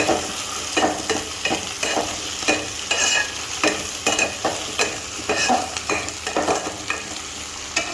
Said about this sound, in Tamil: ஒரு பெரிய உருளைக்கிழங்க நல்லா பீஸ் பீஸாக வெட்டி போட்டு அதையும் வதக்கணும்